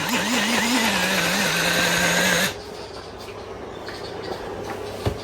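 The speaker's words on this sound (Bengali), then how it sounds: "তো আমি এখানে এই যে মশলাটা বেটে নিচ্ছি, এখানে পেঁয়াজ আর 2টা কাঁচা লঙ্কা আছে" An electric grinder whirs loudly and steadily as onion and two green chillies are ground into spice paste, then cuts off after about two and a half seconds, leaving a quiet kitchen.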